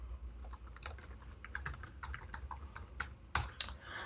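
Fingers typing a contract name on a computer keyboard, a steady run of light, quick key clicks close by, with a couple of louder taps near the end and no talking.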